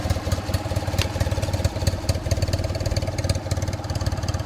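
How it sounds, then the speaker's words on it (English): A 1963 BMW R50S motorcycle engine idles steadily nearby, a low, even rhythmic chugging throughout with no voices. "And listen to the engine, purrs like a kitten."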